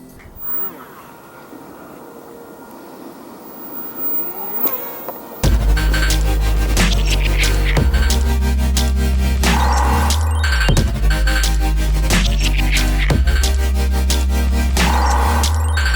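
A small homemade RC airplane's motor kicks in after a quiet stretch with a loud, high, insect-like buzzing whine that stays strong, its pitch wavering as the throttle shifts.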